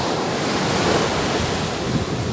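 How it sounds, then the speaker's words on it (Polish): Surf rolls and washes continuously onto the sandy beach at Mahabalipuram, a dense, close roar of breaking waves mixed with wind buffeting the microphone. "No i plaża, plaża, piasek."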